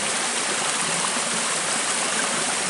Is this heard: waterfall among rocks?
yes